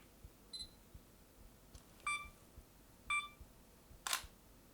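A Sony a6400 camera counts down its self-timer with a few faint, evenly spaced electronic beeps, then fires its shutter with a short crisp click, all quiet and close against near silence.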